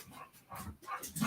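Excited dogs barking and panting in short bursts, fairly close, with a few sharp yips rising toward the end and no clear speech.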